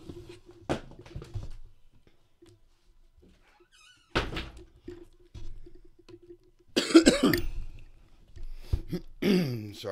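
A door is pushed shut at home with a couple of dull thuds and a louder bang near the end, mixed with coughs and throat clearing in a quiet room.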